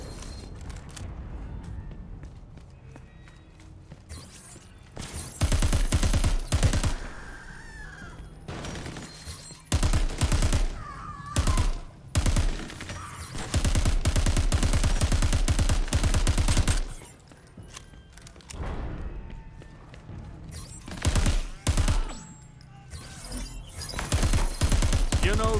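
Bursts of heavy gunfire in the video game Crackdown 3, with loud sustained volleys and rapid automatic fire broken by short pauses and scattered explosive impacts, along with game effects.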